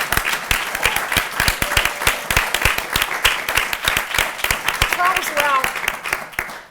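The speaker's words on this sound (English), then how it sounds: "Can we pause right now and applaud Callaloo and applaud Dr. Charles Rao?" A conference audience claps steadily, with many sharp, distinct hand claps close by and a brief voice rising over them near the end.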